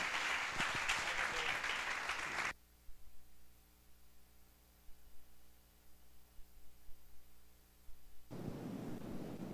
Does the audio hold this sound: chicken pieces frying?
no